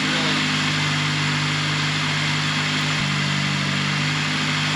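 Toyota Vibe GT with a 2ZZ engine and an exhaust fitted with a small resonator, heard while driving as a steady, subdued engine drone with a constant low hum and no talk.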